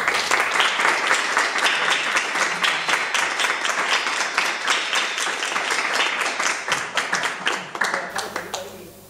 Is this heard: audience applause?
yes